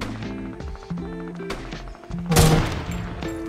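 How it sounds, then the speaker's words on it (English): Video-game gunfire crackles in the distance, a rapid fusillade of shots over tonal game background sounds, with a denser burst near the middle. "They're shooting in the distance, though."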